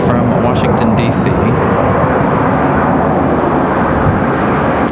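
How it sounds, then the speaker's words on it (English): A Mesa Airlines airliner touches down at Raleigh-Durham airport, a loud, broad engine and wind roar heard from nearby, steady throughout the short span with a brief voice or noise at the start. "As Mesa Airlines touches down from Washington, D.C."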